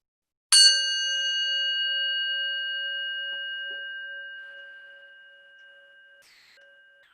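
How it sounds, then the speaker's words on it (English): A single bell strikes once and rings out clearly, its pure tone slowly fading over several seconds in a quiet room. "So I'm going to ring the bell."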